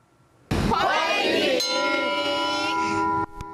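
A ceremonial blessing bell at the glass forest lantern festival near Taiwan's geographic centre in Puli, Nantou, is struck once and rings out loud and bright, its shimmering tone sustaining for nearly three seconds before being cut off.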